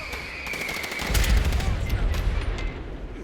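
Rapid gunfire crackles over a low rumbling boom in Fallout 76, dense and loud, like a burst of shots and an explosion in a game battle.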